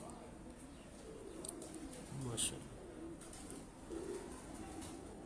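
Pigeons on a rooftop give soft coos in a faint, continuous background, with one brief clearer call and a man's short exclamation over it.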